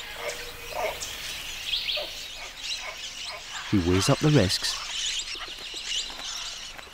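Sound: scarlet macaws calling

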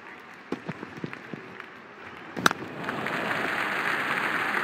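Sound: crowd cheering in a cricket video game, Real Cricket

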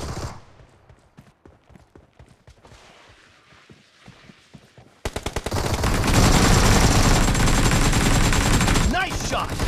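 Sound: gunfire in PUBG video game

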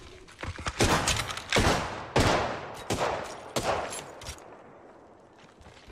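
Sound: gunfire from the video game Apex Legends

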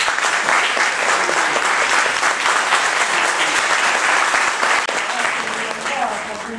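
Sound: audience applause welcoming Rosaria Iazzetta

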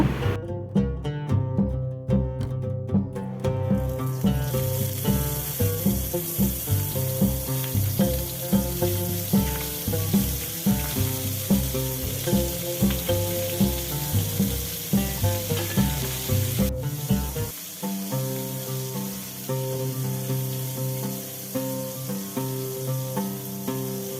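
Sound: prawns frying in mustard oil in a pan

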